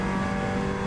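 Seat TCR race car in a sim racing game, a short burst of steady loud engine drone at high revs with no talking.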